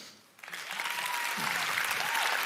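An audience at a livestreamed pitch event breaks into a round of applause, swelling from quiet to steady, fairly distant clapping that continues to the end.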